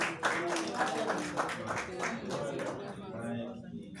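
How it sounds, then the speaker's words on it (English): A short burst of clapping from a small group at a dinner in Lagos, loud at first then thinning out, with voices mixed in. "A round of applause for him as he steps forward"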